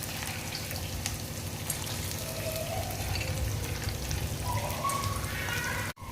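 Peanuts frying in hot oil alongside ridge gourd, a steady close crackling sizzle with faint popping that runs evenly before cutting off abruptly at the end.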